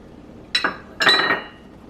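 Pioneer Woman measuring cups clink together as they are handled, two bright, close glassy knocks about half a second apart, the second ringing a little longer, with no talk.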